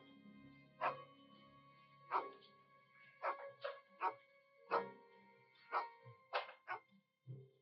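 A dog barking in a string of about ten sharp, separate barks at irregular intervals, fairly clear against a quiet background.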